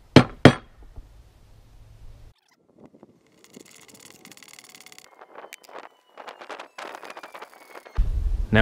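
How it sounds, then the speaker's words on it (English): A regular nail used as a punch for screw holes is struck with a hammer, giving two sharp knocks at the start and then a string of lighter taps and clinks, close by. "I'm just going to use a regular nail to as a punch to make sure that my screw holes don't go crazy on me"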